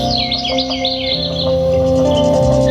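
Birds chirp and tweet in a thick forest on a hill near Shimla, with bright repeated calls close by over a steady musical drone.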